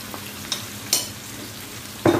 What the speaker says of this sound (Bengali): এখন ভালোভাবে নাড়াচাড়া করে আমার চিংড়ি মাছটা কষাই গেলে আমি শাকটা দিয়ে দিব।